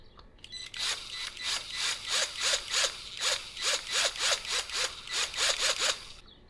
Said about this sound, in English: I'm just going to try drilling a small hole into the back.